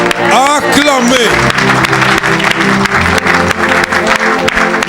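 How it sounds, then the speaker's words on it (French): A church congregation claps and cheers loudly during a service, the applause sustained and dense while a voice rings out over the noise. "Acclamez."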